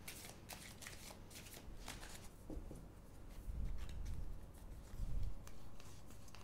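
Tarot cards are shuffled by hand close up, a continuous riffling and sliding with crisp card flicks and a few heavier thumps as the deck is handled, with no talking.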